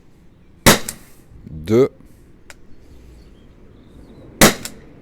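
An LTL Alpha 1.50 less-lethal launcher fires PLB balls during a velocity test, producing two loud, sharp, close shots a few seconds apart. A voice briefly speaks between them.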